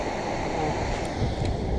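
Ocean waves on a beach, a continuous loud wash of surf mixed with wind buffeting the microphone, close and steady with no clear breaks between waves.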